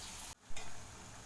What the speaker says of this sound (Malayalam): എണ്ണയിലേക്ക് ഇട്ട് കൊടുക്കാം. എണ്ണ നല്ലപോലെ തിളച്ചിട്ടുണ്ട്